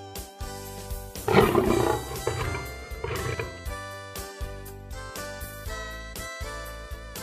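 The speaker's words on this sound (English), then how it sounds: "A lion lives in a den." A lion gives a loud, rough roar that swells and fades over a light musical backing, followed by a few shorter growls as the music continues.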